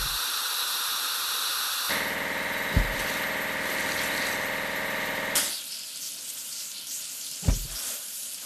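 Water spray hisses steadily over a road paver truck in a kids' car-wash video game, a broad, close rushing noise that shifts in level over several seconds, with a couple of soft thumps.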